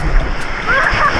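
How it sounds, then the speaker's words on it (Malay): High sea waves splash and churn at Pulau Tioman in a brief burst of close, rushing water, with people audible. "Tinggi kan ombak dia ni."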